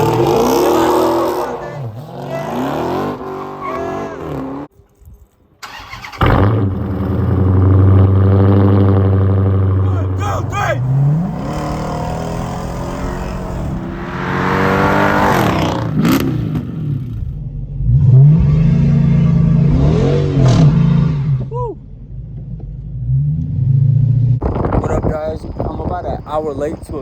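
A Dodge Hellcat engine revs at a San Antonio car meet, with loud, repeated rising and falling revs and sustained roaring stretches while people talk nearby.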